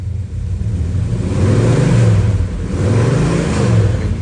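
A 1972 Chevrolet Chevelle's V8 idles with a lumpy rumble, then swells through two smooth, moderate revs before settling back, heard close and alone with no talking.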